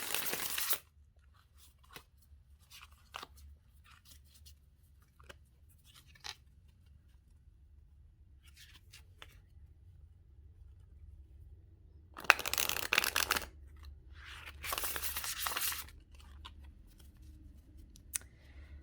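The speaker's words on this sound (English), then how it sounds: "First time shuffling." Tarot cards are shuffled in short crisp bursts, with quiet handling sounds and soft taps between them in an otherwise quiet room.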